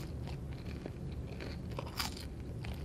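Crunchy biting and chewing of popovers and onion rings, close and steady with repeated crisp crackles and no talking.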